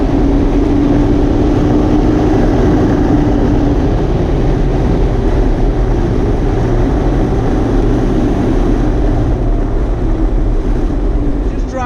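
Steady, loud wind buffeting inside a 2019 Mazda MX-5 RF driving with the top down, a constant rushing roar mixed with road noise that carries on throughout.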